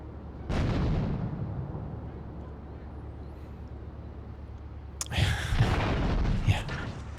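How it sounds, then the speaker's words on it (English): A grenade explodes in Grand Theft Auto III on the PS2 with a sharp, loud boom that rolls into a long rumbling decay, and a second burst of blasts follows a few seconds later. "Maybe I have to grenade this guy."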